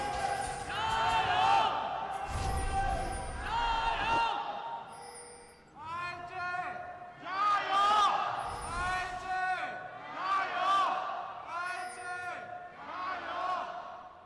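A home crowd in Xi'an at an LPL esports match, WE versus iG, cheers and chants loudly in rising waves of massed voices for the whole stretch.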